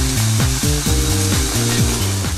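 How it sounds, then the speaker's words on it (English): Pork sirloin sears without oil in a Kuhn Rikon Durotherm pan, a loud, close, continuous sizzle with steady crackling and no voices. "Place the pork sirloin into the Durotherm without the addition of oil or fat"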